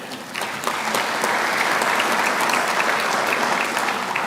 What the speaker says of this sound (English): So, again, applaud you.